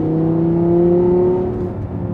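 Audi R8 V10 5.2 FSI engine running close by, a steady, tonal V10 drone that swells slightly and then eases off over about two seconds, with no talking.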